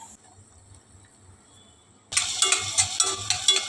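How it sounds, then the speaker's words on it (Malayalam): Quiet at first, then onion, green chili and garlic hit hot sunflower oil with a sudden loud sizzle, followed by rhythmic stirring scrapes in the pan. "നമുക്ക് സവോളയും പച്ചമുളകും വെളുത്തുള്ളി എല്ലാം കൂടി ഒന്ന് വഴറ്റിയെടുക്കാം കേട്ടോ"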